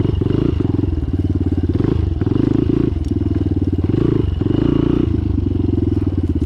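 A street motorcycle ridden off-road, its engine a loud, close, continuous throbbing growl that rises and dips as the throttle changes, with clattering over rough ground.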